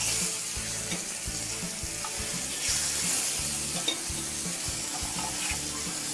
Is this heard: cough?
no